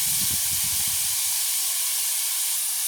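Diced potatoes drop into hot frying oil in a village kitchen, bringing a loud, steady sizzle and hiss that carries evenly through the whole stretch, with low bubbling early on.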